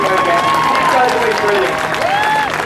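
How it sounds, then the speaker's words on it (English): Street-show audience at a buskers festival clapping for volunteer helpers, a continuous burst of applause mixed with crowd noise, with a performer's voice speaking over it. "Can we give them the biggest clap and give it again?"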